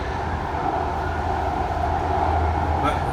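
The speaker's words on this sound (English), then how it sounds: "the light rail train just got a little come to a halt" A VTA light rail train rumbles with a steady low drone as it slows to a halt, continuous and fairly close throughout.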